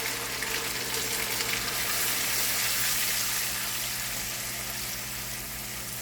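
Ground onion fries in a pan for a kidney bean curry, making a steady, even sizzling hiss at close range that eases slightly toward the end, with no talking.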